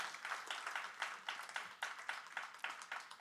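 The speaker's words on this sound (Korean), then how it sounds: "감사의 박수를 좀 보내주시고" Audience applause at a Korean church prayer-meeting inauguration ceremony, a steady wash of many hands clapping in rhythmic surges, moderately distant and alone with no talk.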